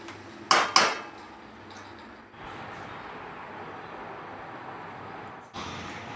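Cooked cabbage curry is poured into a serving pot, opening with two loud metallic clanks of pan against pot, then a soft scraping, spooning rustle and another clatter at the end.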